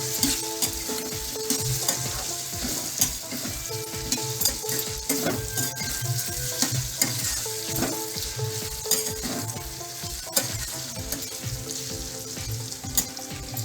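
Bitter gourd fries in a pan with a steady sizzle, while a utensil stirs it with repeated scrapes and knocks against the pan, close and clear.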